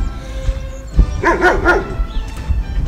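A dog barks in a short burst of several close, loud woofs and yips mid-clip, with low background rumble around it.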